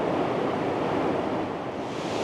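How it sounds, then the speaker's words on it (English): Steady, loud rushing roar of a waterfall flowing in Scotland, a dense continuous wash of water noise with no pauses and no talking. "That is a proper waterfall flowing."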